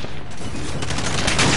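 Rapid automatic gunfire in a Modern Warfare multiplayer match, a dense burst of overlapping shots sustained for a second and a half, loud and close.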